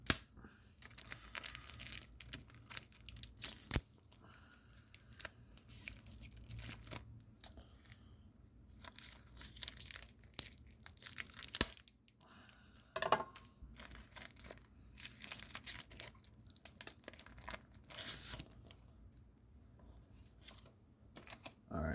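Foil wrappers on 1991 All World Boxing Premier Edition trading card packs are torn open up close in short, crinkly ripping bursts separated by quiet pauses.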